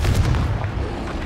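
A short, heavy explosive burst from a Confringo fire spell in the Hogwarts Legacy video game, loud and rumbling, filling the brief moment without any talk.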